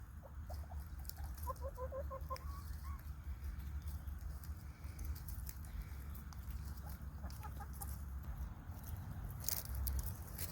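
Garden chickens on a sunny February afternoon cluck softly in short, faint rising calls against a steady low background hum outdoors.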